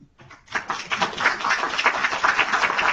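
An audience at a conference afternoon session breaks into applause, starting after a brief quiet moment and building into dense, sustained clapping that fills the remainder.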